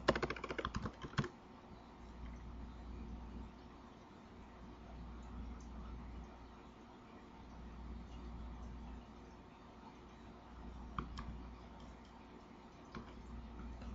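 Faint computer keyboard typing at an Oracle database console, a quick burst of clicks at the start and then sparse isolated keystrokes over a low steady hum.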